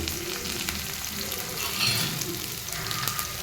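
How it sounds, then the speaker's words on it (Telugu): Tamarind and mint fry in oil in a pan, a constant close crackling sizzle with faint scraping underneath. "వేసుకొని మంచిగా ఫ్రై అవ్వనిద్దాం."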